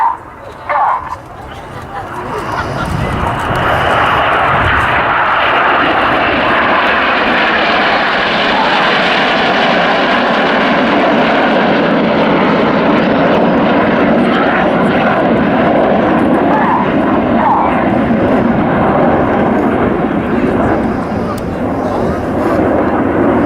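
Red Arrows RAF jets perform a flying display at RAF Waddington, producing a loud, sustained jet roar that builds after a few seconds and holds steady overhead, while a commentator talks over it.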